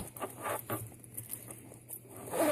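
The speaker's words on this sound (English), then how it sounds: "it still zips shut" A zipper pulled shut on a Bagallini Plaza Mini Messenger Bag stuffed with two passports, travel cards and a phone: soft rasping patter in short bursts, close and fairly quiet, with no talking.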